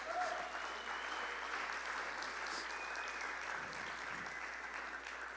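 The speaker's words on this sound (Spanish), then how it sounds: "Demos un aplauso a nuestro Dios." A church congregation applauding during a sermon, a dense, steady wash of clapping from many people filling the room at an even level throughout.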